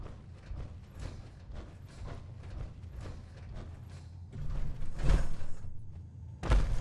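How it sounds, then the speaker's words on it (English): A heavy door in Fallout 4 grinds and creaks open with mechanical clanks, a low rumbling drag that builds to louder thuds and a final heavy clunk. "I got the door open."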